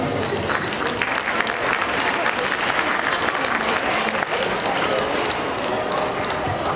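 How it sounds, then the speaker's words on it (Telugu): An audience applauds a Telugu student skit by Plano children at a Manabadi event in Dallas, with dense, sustained clapping throughout and a few faint voices mixed in. "చప్పట్లతో వాళ్ళని ప్రోత్సహించండి"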